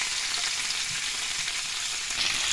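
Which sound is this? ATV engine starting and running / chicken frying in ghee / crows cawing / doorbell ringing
chicken frying in ghee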